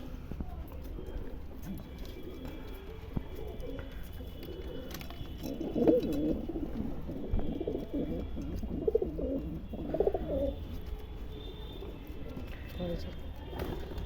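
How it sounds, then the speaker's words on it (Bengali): Pigeons in a loft give soft, low cooing calls in a few short bursts, faint and close against a quiet, rustling background. "আর এদিকে ওপরে অনেক পায়রা আছে"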